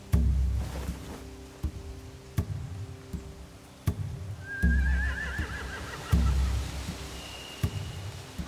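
Horses in a zombie survival game scene, a loud whinny rising and trembling midway, set against repeated heavy thumps and clip-clop-like knocks at a steady pace, with faint talk around.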